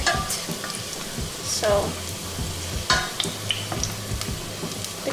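Garlic sizzles and crackles in a pan over medium-low heat, with a steady frying hiss broken by scraping stirs and clinks of a utensil, close up, and a brief word spoken over it.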